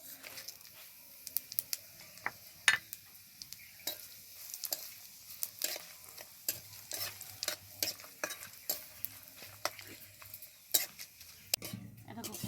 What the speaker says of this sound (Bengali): ফোড়নটা খুব ভালোভাবে ভাজা হয়ে গেছে।